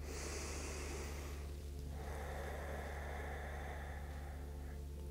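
Two long, breathy exhales through the nose, like soft snorting rushes of air, sound close during a yoga side stretch over a faint steady hum.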